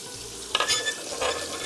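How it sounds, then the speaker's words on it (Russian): Onion frying in rendered pork fat (salo) in a pan, a steady close sizzle with brief louder crackling bursts as it is stirred. "у нас сало хорошо жарится"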